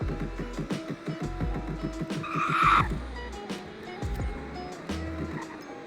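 A sports car capable of 182 mph launching in a 0 to 60 run, its engine revving hard through several rising gear pulls while tires squeal briefly, loud and close.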